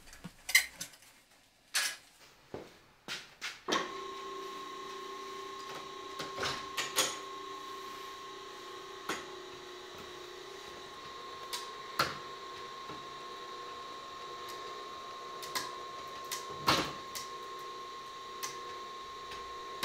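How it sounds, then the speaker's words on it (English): Winch cable winding under load while a 2 1/4 inch heavy wagon felloe is steam bent, giving scattered sharp pops and ticks over a steady mechanical whine, with several close clicks early on. "every once in a while you'll hear a little pop, pop once in a while. Well, it's not the wood that's giving, it's the cable as it's winding onto the winch"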